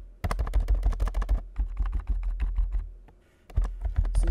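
Fingers typing code on a computer keyboard, a quick run of crisp key clicks, a slower scattered stretch, a brief pause, then rapid typing again, close and clear.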